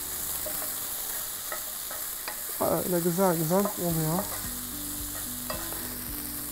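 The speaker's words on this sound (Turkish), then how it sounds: "Tavuklarım pişiyor." Chicken pieces and onions frying in a pan, a steady close sizzle with stirring scrapes throughout, while someone speaks briefly over it.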